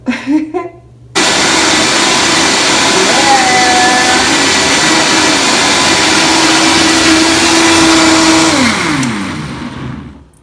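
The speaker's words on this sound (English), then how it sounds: "I'm using the Vitamix, which is very loud" A Vitamix blender whirring through a smoothie in a hotel bathroom, a loud steady motor roar starting abruptly after a brief pause, holding constant then winding down in pitch as it shuts off at the end.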